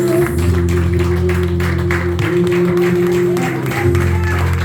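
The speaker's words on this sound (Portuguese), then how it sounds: "aplauda o Senhor mais forte" A church congregation applauds over a sustained organ or keyboard chord, with many hands clapping in a brisk, continuous patter that stays loud and even throughout.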